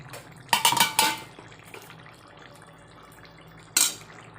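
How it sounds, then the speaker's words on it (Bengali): Clattering metal pot and lid sounds from a kitchen as boiling potatoes are covered, a quick cluster of clinks followed by quiet bubbling and another sharp clank near the end. "আলুগুলো সিদ্ধ করার জন্য আমি একটু ঢাকা দিয়ে দেব।"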